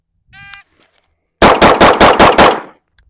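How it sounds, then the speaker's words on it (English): Six rapid, loud pistol shots from 2011-pattern handguns ring out in an even burst at a shooting range, each with a sharp crack and echoing tail, preceded by a brief beep and a quiet pause. "I'm going to start with the rightmost target and 6 shots downrange."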